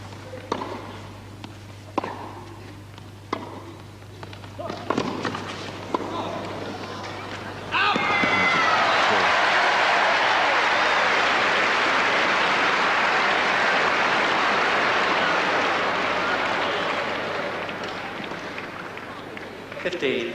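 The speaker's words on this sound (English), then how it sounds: "the crowd now beginning to take sides quite vociferously" At a 1981 Wembley tennis final, brief scattered claps and noises give way to a loud, sustained roar of crowd cheering and applause that swells, holds for about ten seconds, then slowly fades.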